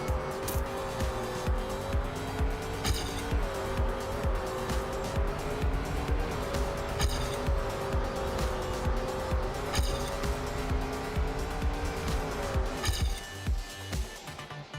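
Trackmania race car in a video game, engine droning steadily at high revs with repeated shifts in pitch and short tire-screech skids through corners, loud and close throughout.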